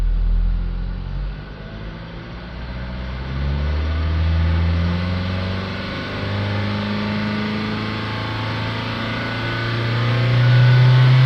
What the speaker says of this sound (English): Let's hold the revs up a little bit, see where we are.